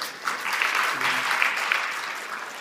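Conference audience applauding at a 2013 cloud computing conference in Korea after a plenary talk, steady moderate clapping filling the hall with a faint voice underneath.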